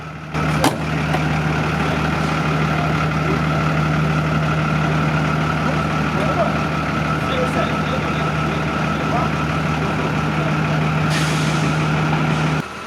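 A vintage Fiat 662N fire truck belonging to the Koper firefighters runs its heavy engine, a loud, steady low rumble and drone holding throughout, with a brief clank near the start.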